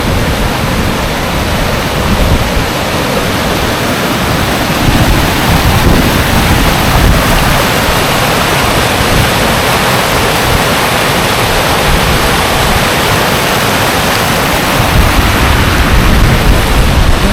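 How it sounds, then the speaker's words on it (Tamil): Water overflowing from Kuppanatham dam spills down a small waterfall, a loud, steady broadband rush that stays constant throughout with no voices. "அந்த பக்கம் வந்து தண்ணி டேம்லேருந்து வர தண்ணி இந்த பக்கம் வழிந்து போகிற ஒரு குட்டி ஃபால்ஸ்"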